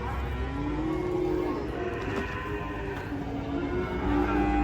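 A raging cow being unloaded from a truck gives long, low moos, loud and close, over a steady rumble of crowd and outdoor noise.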